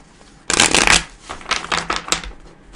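Tarot cards riffle-shuffled up close: a loud burst of rapid fluttering flicks, then several shorter shuffling bursts, with no talking.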